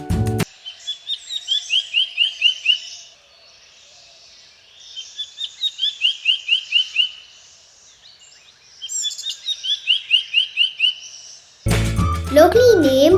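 A black-headed cuckooshrike in Sri Lanka calls in three separate bursts of rapid, repeated high chirping notes, each building in loudness, with quiet gaps between. A voice starts speaking at the very end.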